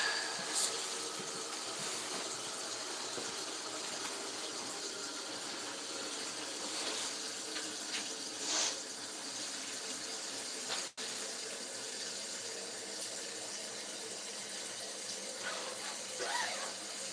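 Water runs steadily from a tap in a continuous hiss, close and even throughout, with a brief clunk midway and no voices.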